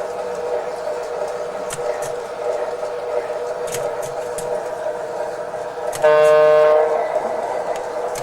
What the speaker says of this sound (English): Now we'll pull the train up so we can load some more.